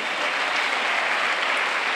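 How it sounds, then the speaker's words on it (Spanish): Audience clapping at a closing gala for a seniors' association, a dense, loud, continuous wash of applause from a large crowd that stays even from start to finish. "Un aplauso más fuerte, hombre, para ellos"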